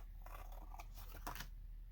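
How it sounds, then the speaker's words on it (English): Scissors snip through paper for a mixed media collage over a watercolor brush-pen base, giving two or three faint, close crisp cuts in a quiet room. "I'm going to grab my scissors because I don't want it hanging off the edge."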